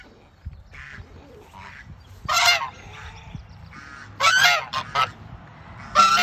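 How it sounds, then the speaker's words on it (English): Geese honking close by near their goslings on a freshly mowed pasture, in three loud bursts of harsh calls with softer honks and low rustling between them. "Mama and Daddy Goose are doing an excellent job of looking after the goslings this time"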